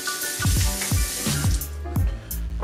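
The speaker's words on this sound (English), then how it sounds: "wash my hands" Running tap water splashes over hands being washed in a kitchen sink during cooking, a close, continuous gush with rhythmic surges as the hands move.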